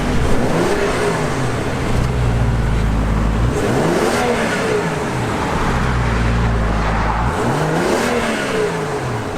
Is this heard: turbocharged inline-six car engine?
yes